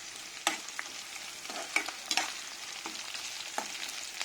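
Mustard seeds, dried red chillies and onions fry in hot oil for a masala dosa filling, giving a continuous crackling sizzle with a few sharper spits and stirring scrapes, close and moderately loud, with no voices.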